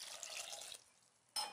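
Water poured from a glass onto moong dal, tomatoes, green chillies and turmeric in a cooker, a close steady splashing pour that eases off, then a brief louder splash near the end.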